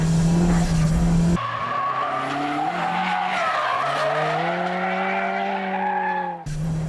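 Tires on a street-tuned car squeal in a long, loud, wavering slide as it drifts through corners during a test drive, with the pitch bending up and down over engine noise and no voices.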